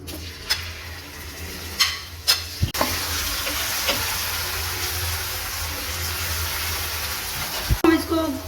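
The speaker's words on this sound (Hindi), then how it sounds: "अच्छे से गर्म हो चुका है, अब हम इसके अंदर प्याज ऐड करते हैं।" Onions go into hot oil in a pan while cooking a creamy chicken karahi. A few clinks and stirring knocks come first, then a loud, steady sizzle and hiss fills the rest, with another clatter near the end.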